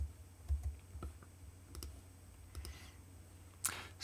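Faint, sparse clicks from a computer keyboard key being pressed a few times in a quiet room, with no talking.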